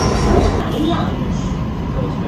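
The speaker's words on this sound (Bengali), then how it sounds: "আর এই হচ্ছে ট্রেন এখানকার।" A Kuala Lumpur metro train rumbles steadily at a platform, with a loud, continuous low roar and faint wheel hiss.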